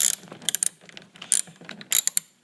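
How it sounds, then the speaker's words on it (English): A 10mm socket ratchet working a side mirror screw loose on a Toyota Camry clicks in short, close bursts of sharp pawl ticks, with brief pauses between strokes and no talking. "I used a 10mm socket to get it off."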